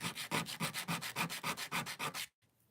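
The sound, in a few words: sanding wood parts with sandpaper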